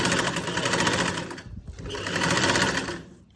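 A sewing machine runs in two steady bursts, stitching a folded-in round neckline on garment fabric with a long stitch, loud and close, with a brief pause between runs.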